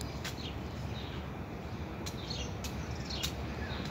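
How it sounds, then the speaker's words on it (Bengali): Birds chirp outdoors in the morning near a flowering tree, a few brief, sparse calls rising over a steady background hum, faint and somewhat distant. "সকালবেলা পাখির কিচিরমিচির শব্দ।"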